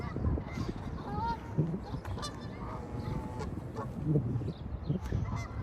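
Two geese fight outdoors at sunset by a Brampton shopping plaza, their repeated harsh honks and squawks close and loud, coming in bursts over a constant background rumble.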